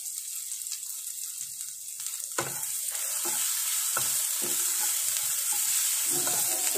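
A spice paste with garlic, ginger and ground cumin fries in a pan, with a constant hiss and sizzle and irregular spatula scrapes that grow busier partway through.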